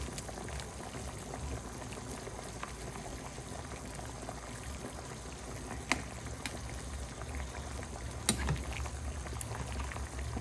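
Pork sinigang soup simmering in a pot, a soft continuous bubbling and burbling with a couple of brief knocks, fairly quiet and steady.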